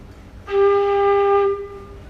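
A single steady flute note played with one hole closed, pure and breathy, held for about a second, loud and close, with a faint room hiss around it.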